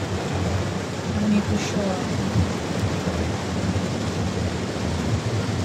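Heavy, nonstop overnight rain pouring down outside a house as floodwater seeps in, a steady dense hiss throughout with a faint low rumble, a voice speaking briefly over it.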